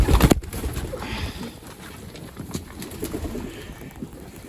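A pigeon held in the hands gives soft low cooing murmurs under rustling handling noise, close by, after a brief loud bump at the start.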